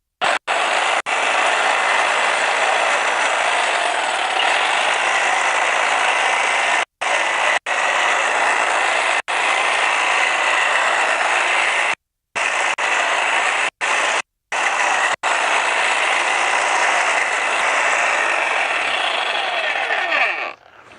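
Greenworks 22-inch electric hedge trimmer with a strong motor running and cutting through growth, a loud steady buzzing rattle broken by several brief pauses as it stops and restarts, with no talking.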